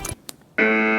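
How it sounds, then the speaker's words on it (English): A loud bunker access alarm in the video game Escape From Tarkov blares as a steady, harsh buzzing tone that starts abruptly after a few faint clicks and keeps sounding without a break. "It sounded like the loud bunker access alarm had been activated by other players."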